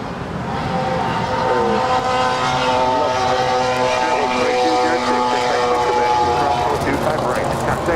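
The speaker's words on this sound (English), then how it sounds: "This is United 1241 departing to Denver. It's a 737-800." A United Boeing 737-800 jet departing Los Angeles International Airport for Denver, a loud continuous engine roar with whining tonal harmonics, under air traffic radio chatter and voices.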